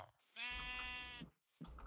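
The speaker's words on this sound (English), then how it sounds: "There's a sheep." A single long sheep bleat from Minecraft sounds clear and close, with quieter game ambience around it.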